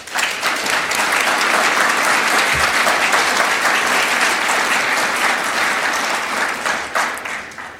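Sustained applause from an audience at an opening talk for a local prosperity event, loud, dense steady clapping that carries on for the whole stretch with no talk over it.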